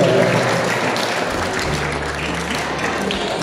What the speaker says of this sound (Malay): Beri tepukan kepada sekolah dengan pada kerja.